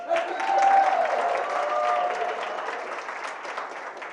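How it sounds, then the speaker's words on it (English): An audience applauds the Griffins team at a Rochester Board of Education recognition of World of Inquiry School, a steady moderate wash of clapping from a seated crowd that holds for several seconds with faint voices mixed in. "Again, let's give them a round of applause"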